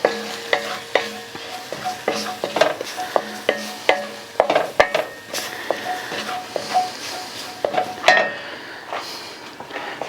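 A spice mix cooking in a pot of chili gets stirred steadily, giving repeated rhythmic scrapes and light metallic clinks of a spoon against the pot over a continuous low sizzle, close up, with no talk.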